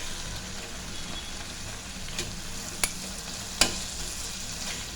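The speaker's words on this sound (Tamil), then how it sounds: "இப்போ நல்லா கொதிச்சதுக்கப்புறம் சிம்லே வச்சு வதக்கிக்கலாம்." Steady low sizzle of chicken curry cooking in a pan, with a couple of sharp clinks from a utensil stirring against the metal.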